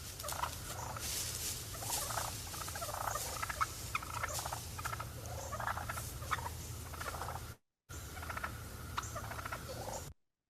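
Wild turkeys feeding outdoors, giving repeated soft clucks and purring calls in irregular clusters over a steady low background hum, with a brief gap near the end.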